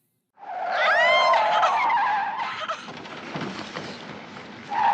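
Tires squeal loudly on a runaway car with failed brakes in a 1976 film, starting abruptly with a rising, wavering screech and then settling into rough skidding and engine roar before a second squeal returns near the end.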